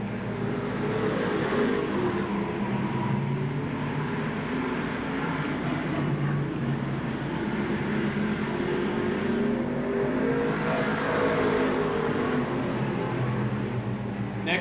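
Race cars circling the Seekonk Speedway oval during a 12-lap consolation round at a 1997 weekly race night, a continuous loud engine roar that swells and fades slightly as the pack runs down the straightaways.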